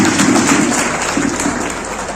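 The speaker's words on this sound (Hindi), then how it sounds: "मंच पे जितने लोग बैठे हैं वो सिर्फ आप लोगों के लिए ताली बजाएंगे" People seated on stage applauding sanitation workers at an honouring ceremony, a loud, steady burst of group clapping that carries on throughout without talk.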